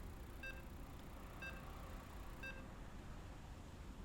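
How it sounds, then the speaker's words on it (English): StarCraft II match countdown: three evenly spaced electronic beeps about a second apart, bright and tonal, over a steady low background hum, with no talking. "Activate that sound so we can all enjoy the countdown."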